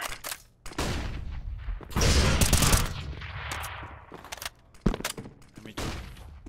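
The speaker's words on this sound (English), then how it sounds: "Throwing flashbang." Sharp bursts and crackling pops erupt in clusters with brief gaps between them, loud and close, as a flashbang grenade goes off amid gunfire in a video game.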